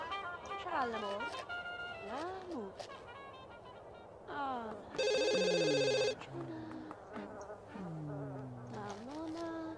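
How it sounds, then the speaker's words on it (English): A telephone rings in The Sims 2 as a bright, buzzy electronic trill lasting about a second, set among chattering game voices and effects. "Get the phone quick, or you can just walk there."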